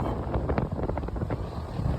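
Strong wind buffeting the microphone in a continuous low roar on the Pamban rail route, with rushing, gusty noise throughout and no speech.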